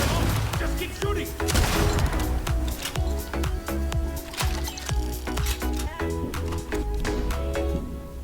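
Rapid gunfire in the video game Starfield rattles steadily throughout, dense overlapping shots over a driving musical score, with occasional voices mixed in.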